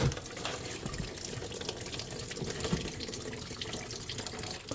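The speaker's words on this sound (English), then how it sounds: "Alright, so let it drain." Coolant drains steadily from a car radiator with the cap removed, a continuous close splashing trickle of liquid into a catch container, running alone with no talk.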